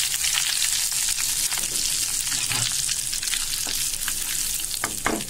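Curry leaves and chili powder frying in hot oil for a karapodi pepper kuzhambu, giving a steady, close, loud sizzle with scattered crackles and a few sharp pops near the end.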